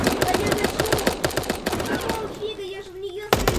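Sustained rapid assault rifle fire in the video game Super Animal Royale, a long dense run of close shots that fades into a steady tone before a final burst.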